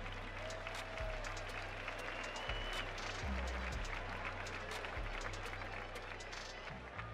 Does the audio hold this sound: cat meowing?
no